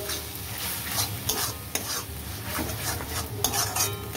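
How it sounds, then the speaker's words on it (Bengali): Onion and small chopped pieces of fat stirred and fried in a pan, a continuous sizzle with repeated scraping strokes of a spoon against metal throughout. "এবার চর্বি দিয়ে পেঁয়াজটাকে খুব ভালো করে কষিয়ে নেব"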